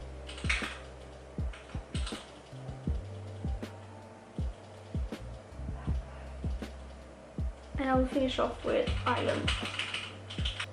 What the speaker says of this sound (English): you can definitely hear my boyfriend's keyboard